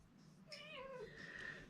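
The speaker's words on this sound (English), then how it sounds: "She's very vocal, my cat." A pet cat gives a single short, quiet meow, close by in a calm indoor room.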